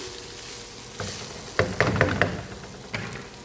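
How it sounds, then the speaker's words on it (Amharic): Potatoes fry in a pan for a sandwich with a steady crackling sizzle, broken by a few sharp knocks and scrapes from stirring near the middle. "በጣጥስ እየጠበስን ነው።"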